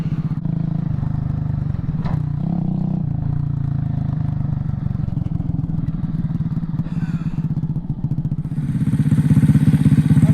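A Honda ChopT70 motorcycle engine runs steadily at close range, a low continuous rumble with rattling mechanical texture that swells slightly louder toward the end.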